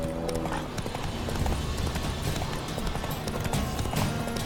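Horse hooves clip-clop in a steady galloping rhythm in The Witcher 3: Wild Hunt, loud and continuous over game ambience, with a faint voice urging the mount on.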